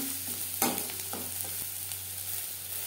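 Onions with salt and turmeric frying in a pan give a soft steady sizzle, with a sharp spatula knock and brief stirring scrapes up close.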